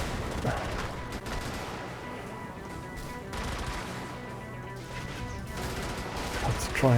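Turret gunfire in the top-down mech game Brigador, a steady dense rattle of automatic shots running under a busy mix of game noise, with a voice talking over it.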